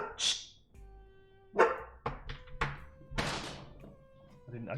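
A pet dog at home gives a few sharp barks and yelps, spaced irregularly with thumps and a meow-like cry mixed in, moderately close in a quiet room.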